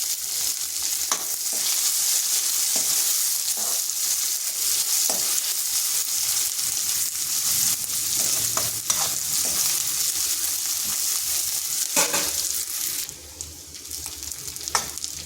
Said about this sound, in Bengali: পেঁয়াজ রসুনটা ভেজে নিয়েছি যাতে পেঁয়াজের আর রসুনের কাঁচা গন্ধটা চলে যায়।